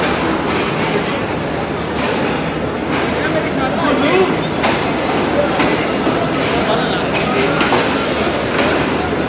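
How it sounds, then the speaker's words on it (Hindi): A train at the busiest platform of Lahore railway station, a loud dense wash of rumbling, clanking and crowd noise with scattered metallic knocks throughout. "busiest platform of Lahore railway station."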